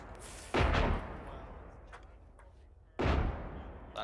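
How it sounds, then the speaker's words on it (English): Two heavy explosions in the ArmA 3 combined-arms battle game, each a sudden loud boom with a rumbling tail, about two and a half seconds apart over low background noise. "Big explosion"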